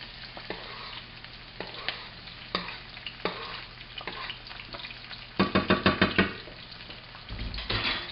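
Garlic sizzles steadily in a hot frying pan for pasta, with scraping stirs and a burst of rapid clattering knocks against the pan partway through. There is no talk.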